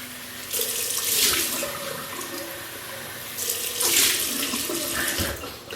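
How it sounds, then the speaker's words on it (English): Cold water gushes from a tap in two surges, splashing steadily into a basin, close and fairly loud. "Cold water rinse."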